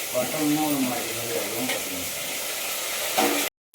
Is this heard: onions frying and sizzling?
yes